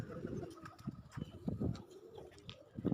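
A pair of pigeons carrying nesting material give soft, low, repeated coos in uneven pulses, quiet and close, with faint scuffling between calls.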